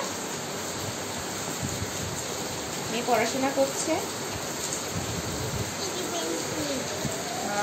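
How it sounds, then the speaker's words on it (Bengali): Heavy rain pours down outside, a dense continuous roaring hiss heard from indoors at moderate level, with a person talking briefly over it midway. "ভীষণ মানে মুষলধারে বৃষ্টি হচ্ছে"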